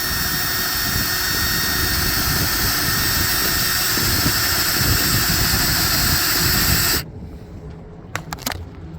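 A power drill boring bolt holes through a temporary plywood emergency rudder for a C&C 39 sailboat, a loud steady whine for about seven seconds that cuts off abruptly, followed by a few brief clicks and taps.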